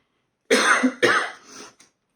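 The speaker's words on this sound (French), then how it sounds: "Je profite des intermèdes pour tousser" Two harsh coughs in quick succession, close and loud, with a short raspy tail after the second.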